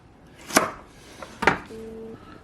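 A kitchen knife chopping food into half-inch pieces on a cutting board: two crisp knocks about a second apart with a faint tap between, close and alone, then a brief electronic tone.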